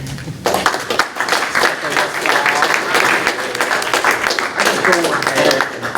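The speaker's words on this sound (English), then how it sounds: "let's have another round of applause" A crowd at a citizens' meeting in rural Virginia breaks into a steady round of applause, dense clapping that starts about half a second in and keeps going, with voices mixed into it.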